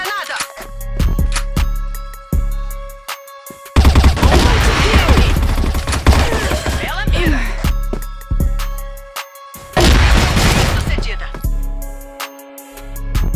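Gunfire and grenade blasts in the CrossFire video game: sharp repeated shots in quick bursts, with two dense loud stretches of rapid fire and explosions, and a voice talking between them.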